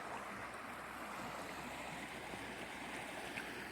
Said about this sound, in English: This is part of the Virgin River.